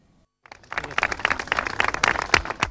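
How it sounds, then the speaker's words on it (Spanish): Neighbours in Parque Alcosa, Sevilla Este, break into applause for the mayor of Seville, a sudden swell of many hands clapping outdoors that grows denser and louder after a brief silence. "A juzgar por los aplausos con los que el alcalde de Sevilla ha sido recibido esta mañana por los vecinos del Parque Alcosa Sevilla Este"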